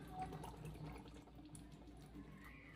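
Water from a self-siphoning 6–12 V DC water pump running at 4.2 volts pours steadily from its hose outlet, a continuous close trickling splash at low level.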